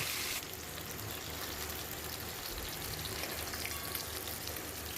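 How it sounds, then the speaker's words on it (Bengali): Bhola fish frying in hot oil in a pan, giving a steady, dense sizzle that runs on evenly throughout. "এবার উল্টে পাল্টে মাছগুলোকে ভালো করে লাল লাল করে ভেজে নেব"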